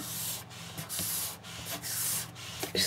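A brush spreading varnish over a textured vivarium background, giving steady close rubbing strokes in repeated sweeps with brief gaps between them, and no talking.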